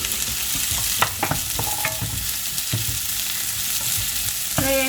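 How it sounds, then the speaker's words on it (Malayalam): Onions hit hot oil for an egg curry, setting off a loud, close, steady sizzle with stirring clatter and crackles throughout, and no voices. "എണ്ണ ചൂടായിട്ടുണ്ട്. നമുക്ക് അതിലേക്ക് സവാള ഇടാം. സവാള മുഴുവനും ഇടാം."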